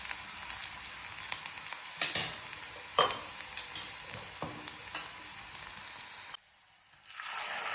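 Onions frying in a pan over a medium gas flame, a steady close sizzle broken by a few scraping stirs, cutting briefly quiet near the end before the sizzle returns.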